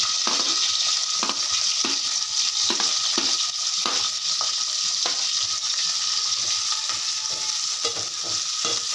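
Onions with green chillies frying in oil make a loud, steady sizzle, broken by regular scraping stirs about every second.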